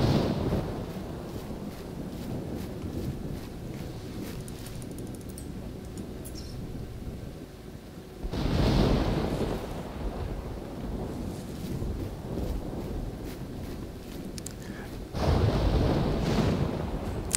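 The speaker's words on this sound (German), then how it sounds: "Gerade jetzt muss es natürlich wieder gewittern" A stormy wind roars steadily during a thunderstorm in the hunting video game theHunter: Primal, with two louder rushing surges partway through that may be thunder. The roar is broad and constant, with no talking.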